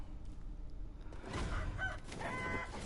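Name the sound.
rooster crowing in video game Sekiro: Shadows Die Twice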